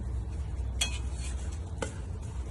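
Jaggery, ghee and powdered sugar are stirred together, with two brief metallic clinks of a spoon against the vessel over a steady low hum, close and fairly quiet, without talking.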